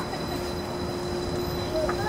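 The Disneyland monorail glides along its track with a steady, muffled rolling rumble heard from inside the cabin. A constant tonal hum runs through it and a brief squeal comes near the end.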